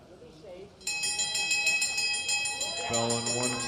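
A bell rings out for the final lap at a masters track cycling world championship, a bright sustained metallic tone over crowd noise while a commentator talks.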